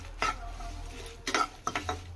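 Raw mango chutney ingredients being stirred in a pan of oil: a steady low hiss under a few scraping, clattering stirs, close by, with no talking.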